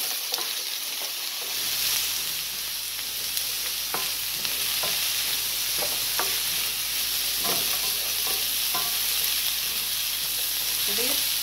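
Eggplant and pumpkin frying in a pan give a loud, continuous sizzle and hiss, broken by occasional scrapes and clicks of stirring, with no talking.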